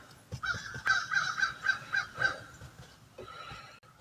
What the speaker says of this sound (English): them old crows over in the trees are talking to us this morning